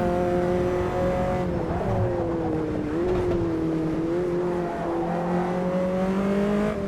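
Open-wheel Formula Inter race car in Automobilista 2, its engine holding a loud, steady high-pitched drone near and constant throughout, with small pitch dips and rises as it shifts and accelerates through traffic.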